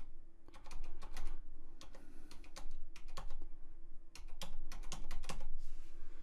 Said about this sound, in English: You got to type in those 12 numbers with commas in between them.